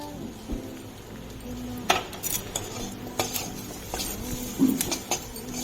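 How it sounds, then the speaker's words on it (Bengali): Spices with red chilli powder, sugar and salt frying in a pan for a Bengali bitter gourd dish, a metal spoon scraping and clinking intermittently against the pan over a faint background sizzle. "সমস্ত মশলা আরও একবার ভালো করে ভেজে নেব"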